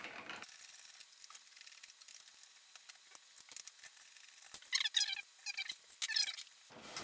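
The barrel of an FDL-1 foam dart blaster is unscrewed, producing a close, quiet run of irregular ratcheting clicks and plastic squeaks that grow busier toward the end.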